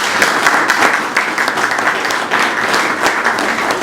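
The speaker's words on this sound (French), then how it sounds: "efforçons-nous d'abord d'applaudir." Loud, close audience applause at a speech event in Quinois country, with dense clapping in uneven surges that carries on steadily with no voices over it.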